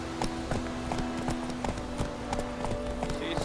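A horse walks with even clip-clopping hooves, a regular rhythm of sharp knocks at close range, with a steady hum behind it and a voice briefly heard.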